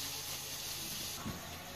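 Food coated in cornstarch frying in oil in a pan, a continuous soft sizzling hiss with a faint low bump near the end.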